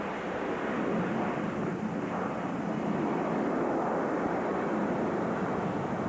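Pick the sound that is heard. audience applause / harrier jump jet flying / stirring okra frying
harrier jump jet flying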